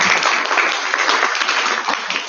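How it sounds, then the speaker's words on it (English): A dense, continuous burst of applause fills the hall at an IVSA congress general assembly in Nepal, loud and steady throughout. "round of applause for that"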